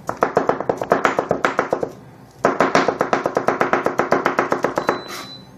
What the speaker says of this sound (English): we're going to start by chopping up some green onions, little bits